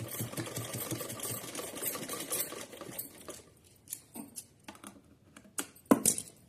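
A sewing machine stitches a folded edge of fabric for a small doll dress, running in fast dense bursts for about three seconds, then breaking into short intermittent runs and clicks.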